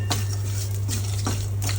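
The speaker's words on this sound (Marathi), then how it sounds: "कढईत खडे मसाले टाकून घेते आणि बिना तेलाचे भाजून घेते परतून घेणार थोडं वेळ" Whole spices dry-roasted without oil in a kadhai, stirred with a metal spoon that gives a few sharp scraping clinks over a steady low hum, with no voices.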